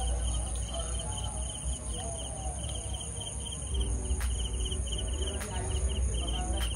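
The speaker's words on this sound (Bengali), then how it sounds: "এখানে ঝিঝি পোকার আওয়াজ।" Crickets chirp at night near a riverside hotel in Kolaghat, a dense continuous high trill with steady pulsing layers over a low background hum, no voices.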